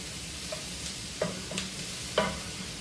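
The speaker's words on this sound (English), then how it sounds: "I just want to let these vegetables sweat" Onion and vegetables sweating in a pot for chowder give off a low, steady sizzle, with several light clinks and scrapes of a utensil stirring against the pot.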